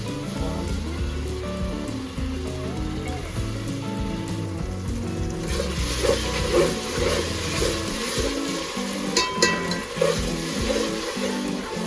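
Ginger garlic paste frying with onions in a pan for vegetable biryani, a dense rain-like sizzle that grows busier partway through, with occasional stirring and a low tonal hum underneath.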